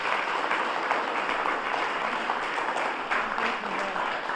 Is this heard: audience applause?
yes